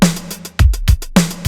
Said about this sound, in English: Let's see, let's get the snare.